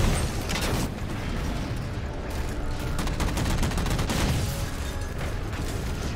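Sustained heavy gunfire and explosive blasts in the Halo 4 campaign, a dense continuous barrage of shots loud and close for the whole stretch.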